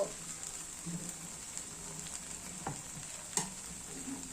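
A dosa cooking on a hot pan gives a faint, steady sizzle with a few soft clicks and small pops scattered through, quiet and close with no voices.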